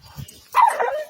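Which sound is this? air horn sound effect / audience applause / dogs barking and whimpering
dogs barking and whimpering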